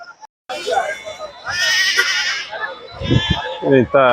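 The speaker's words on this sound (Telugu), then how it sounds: "ఇవన్నీ అవి మేకలు గొర్రెలు ఇవన్నట్లు ఇక్కడ నుంచి వస్తాయి ఇవన్నీ గొర్రెలు" Goats and sheep bleat repeatedly at a large outdoor goat and sheep market in Ichoda, several loud wavering cries close by, mixed with someone talking and general crowd noise.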